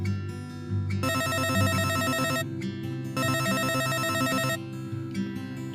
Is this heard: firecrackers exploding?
no